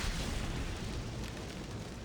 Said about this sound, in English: Here comes the flamethrower.